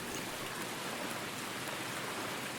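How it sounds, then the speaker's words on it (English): Steady rain in a lakeside fishing video game, a dense, even hiss of drops pattering on surfaces without pause, moderately quiet and alone. "It's raining, so never good for fishing."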